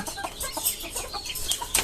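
A hen recovering from a leg ailment clucks softly and repeatedly close by, with low murmuring clucks over a faint farmyard background.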